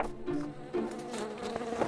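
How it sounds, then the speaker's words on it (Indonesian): A housefly buzzes close by in a continuous droning hum with slight wavering pitch as it moves, heard alone for about two seconds. "Oh, lalat, kamu kembali."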